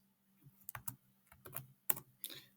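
Someone types code on a computer keyboard, a quiet, close sequence of about a dozen key taps in small uneven clusters over a faint low hum.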